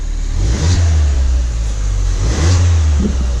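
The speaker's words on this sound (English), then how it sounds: "Let's give him a little rev." A crashed Ford Fiesta ST's engine revs up twice through its sport exhaust with a deep, throaty roar, rising and falling close by, with idling rumble between the bursts.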